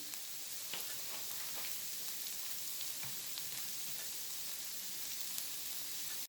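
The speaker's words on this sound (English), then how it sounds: "so that I stop the sizzling of the oil and the onion can get softer" Steady, dense crackling sizzle of onion frying in oil, with faint scattered pops, continuous and fairly quiet throughout.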